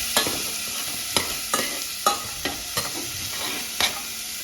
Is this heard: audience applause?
no